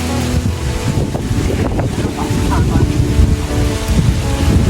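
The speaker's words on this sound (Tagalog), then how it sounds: "Wow, hangin." Strong wind buffets the microphone at an outdoor bikers' stop, a loud continuous roaring rumble with gusty surges, while people talk over it.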